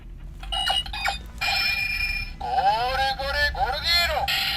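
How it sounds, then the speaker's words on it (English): Electronic jingle from a Super Sentai toy key producing its Heishin sound effect, a loud, bright synthesized tune with rising and falling tonal sweeps, played alone over a steady low background hum. "So that's a Heishin sound."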